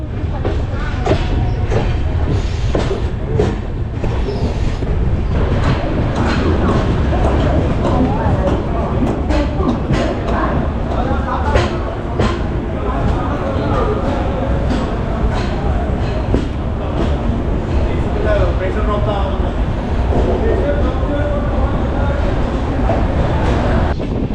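Porbandar Express on the Konkan Railway near Panvel, running with a constant loud rumble and rattle of the coach, with passengers talking over it throughout.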